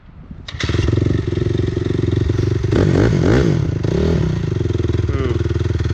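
Honda CRF250 dirt bike engine with a suspected fault kicks into life and settles into a loud, rough, chugging run nearby, with a few revving surges partway through and a faint voice underneath.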